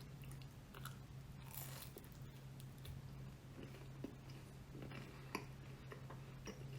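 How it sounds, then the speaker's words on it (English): Close chewing on a bite of Chuck E. Cheese pizza, soft wet mastication with faint crunches and a couple of sharper clicks, steady throughout and fairly quiet over a low constant hum, with no talking. "I'll eat this happily."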